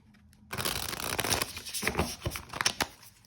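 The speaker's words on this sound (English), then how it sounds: "Let me do one more riffle and then a little bit of overhand." A standard-size luxury tarot deck gets a riffle shuffle and then an overhand shuffle close by: a sudden flurry of rapid card flicks gives way to softer, uneven slaps and rustles.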